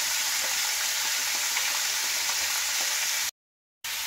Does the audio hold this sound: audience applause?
no